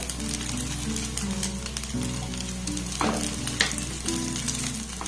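Flatbread made from flour frying in a little oil in a pan, a steady close sizzle with occasional crackles and a brief louder spatter as more oil goes in, with no talking.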